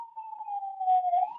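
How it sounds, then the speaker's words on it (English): An emergency vehicle siren passes outside, a steady wailing tone that rises and falls slightly, moderately loud and continuous with no talk over it. "Sorry about the siren here."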